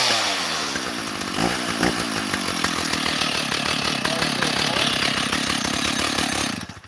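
Stihl MS 661 chainsaw cutting into a log, a loud, close, sustained buzzing roar that holds steady, then drops away at the very end.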